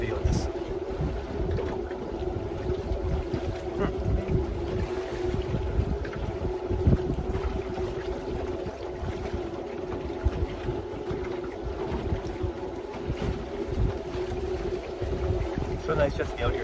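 Wind while sailing a small boat with an easterly wind: a steady buffeting rush of air and water noise continues throughout, loud and close, with a low hull rumble underneath and someone talking over it.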